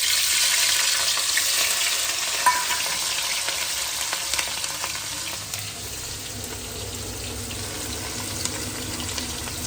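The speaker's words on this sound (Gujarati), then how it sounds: "ચલો ગાઈસ વઘાર કરી લઈએ" Loud, continuous sizzling and crackling of tempering spices frying in hot oil, close up, gradually settling a little over several seconds, with no voices.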